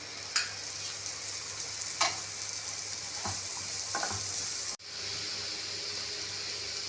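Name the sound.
chopped onions and curry leaves sautéing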